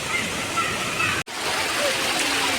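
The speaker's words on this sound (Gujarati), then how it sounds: "તો મિત્રો, આ છે ભાવનગરનો દેશી વોટરફોલ." A local waterfall in Bhavnagar gives a continuous rushing, splashing roar of flowing water, steady and fairly loud, broken by one brief cut.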